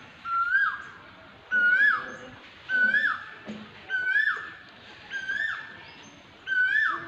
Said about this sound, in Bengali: আর সাথে আপনারা কোকিলের ডাক শুনতেছেন বোনাস হিসেবে